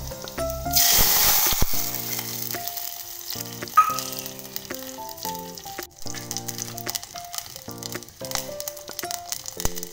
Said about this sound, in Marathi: त्यानंतर आपण अर्धी वाटी पाणी टाकू.